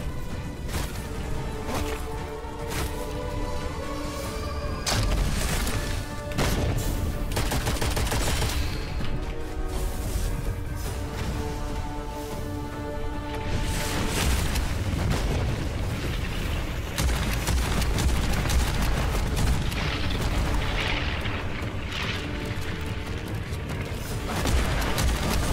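Rapid bursts of gunfire and heavy booming explosions from the video game Witchfire, with bombs raining from above, pile up in a dense barrage, with music running underneath throughout.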